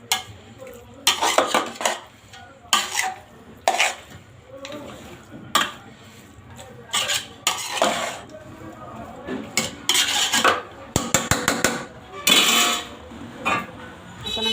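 Meat being mixed into rice in a cooking pot for kacchi, with repeated scraping and clanking of a utensil against the pot in uneven bursts, close and fairly loud, with quiet gaps between strokes.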